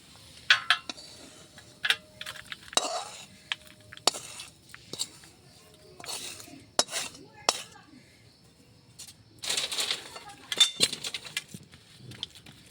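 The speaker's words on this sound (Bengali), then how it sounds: "এখন আমি একটা থালে ঢেলে নিলাম।" Cooked semolina barfi mixture is poured from a pan onto a plate, with a string of scattered metallic clinks, knocks and scraping strokes of the pan and utensils, close and fairly quiet between the hits.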